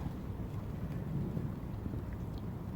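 Faint, steady rain with a low wind rush outdoors at night on a cold quarry lake, a continuous muffled wash without distinct events.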